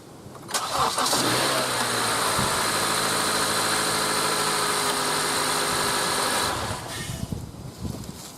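A car engine cranks and catches after a battery replacement, then settles into a steady, loud, close idle for several seconds before it cuts off.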